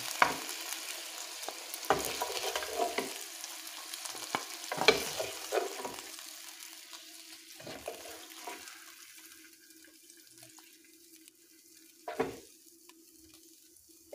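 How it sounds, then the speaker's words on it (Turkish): Chicken drumsticks sauté in a pot, giving a soft steady sizzle with occasional clanks and scrapes of stirring, fairly faint and fading toward the end. "butlarımızı güzelce tencerede şöyle kavurma işlemini yaptık"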